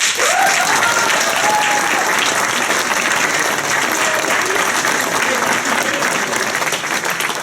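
Theatre audience applause for a troupe member being introduced: continuous, loud, dense clapping from a crowd, even throughout, with a voice briefly audible under it.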